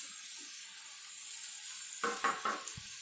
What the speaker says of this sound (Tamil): வெட்டி வச்ச தக்காளியை போடுறோங்க உள்ள